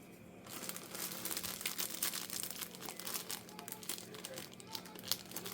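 A garden bag crinkles and rustles steadily as it is filled by hand, with soft crackling bursts throughout and a faint low hum underneath.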